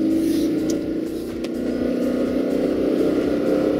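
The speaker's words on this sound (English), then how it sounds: "So you're sitting there with the engine screaming and you're only doing 33 miles per hour" A Toyota Prius engine strains uphill in eco mode, a constant droning whine with a faint rhythmic low flutter, held at steady moderate loudness throughout.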